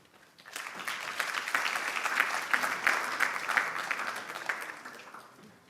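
A conference audience applauds to welcome a speaker, a sustained wave of clapping that swells, holds steady for several seconds, then fades.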